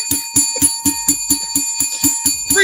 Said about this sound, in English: Let's ring the bell for that free Dez.